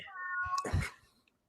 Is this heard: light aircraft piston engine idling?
no